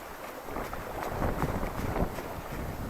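Strong wind buffets and roars across the microphone in gusty waves while fishing for sea bass, loud and constant, with no voices.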